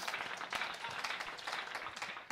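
Audience applause at a business dialogue forum in Cottbus, a dense steady wash of many hands clapping throughout, moderately distant and even in level with no voice over it.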